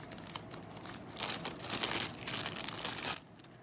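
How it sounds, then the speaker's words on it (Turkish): Plastic bag crinkling and rustling as a replacement CPU cooling fan for an HP EliteBook x360 1030 G2 laptop is pulled out, irregular close crackles swelling louder midway then stopping abruptly. "Yeni fanı poşetinden çıkartıyorum."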